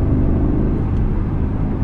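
A BMW M550i LCI sedan accelerating along a motorway, heard as a loud, steady, deep engine and road rumble that holds evenly throughout, with no voices.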